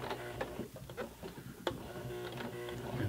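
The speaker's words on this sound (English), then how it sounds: "I'll turn the hand wheel, just barely press on the foot to help it along." Entry-level home sewing machine stitching slowly over a thick jeans hem, giving a quiet, uneven run of mechanical ticks and clicks at close range with no talking.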